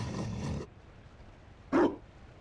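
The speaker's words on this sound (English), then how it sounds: "You found a dog?" A Mabari war dog in Dragon Age: Inquisition gives a short muffled bark or growl at the start, then after a quiet gap a single sharper, louder bark near the end.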